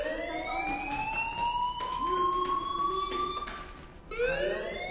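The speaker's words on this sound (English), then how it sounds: "Hey, do you hear that fire alarm?" A fire alarm in the video game Life is Strange wails in long rising electronic sweeps, repeating steadily and loud, briefly broken before a new cycle starts.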